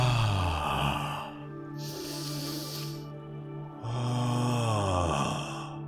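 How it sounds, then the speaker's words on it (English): A person breathes loudly and close, with long hoarse airy inhales and exhales in a slow repeating rhythm, alone with no talk. "Okay, so we're gonna be now breathing air."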